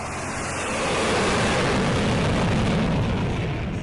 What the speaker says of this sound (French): Des avions supersoniques